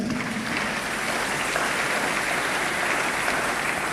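A church congregation applauding in acclaim of the Lord, a dense steady wash of clapping from a large crowd, loud and continuous throughout with no speech over it.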